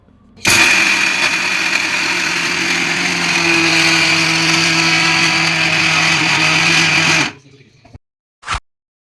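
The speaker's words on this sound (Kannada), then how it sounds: "ಆನಂತರ ಮಿಕ್ಸಿ ಜಾರಿಗೆ ಹಾಕಿ ಚೆನ್ನಾಗಿ ರುಬ್ಬಿಕೊಳ್ಳಿ" A kitchen mixer grinder runs for about seven seconds, grinding roasted peanuts with chilli powder and a little oil into a coarse powder. It makes a loud, steady whirring roar that cuts off abruptly, followed by a brief clack.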